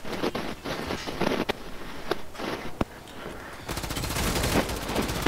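Gunfire in the video game Call of Duty Modern Warfare III, repeated sharp shots and bursts scattered over a rushing background, with a denser stretch of rapid fire toward the end.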